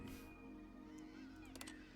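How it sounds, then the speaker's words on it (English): Birds honk in The Stanley Parable 2: Ultra Deluxe, a couple of brief goose-like calls over a quiet background hum, fairly faint and with no talking. "look at those silly birds."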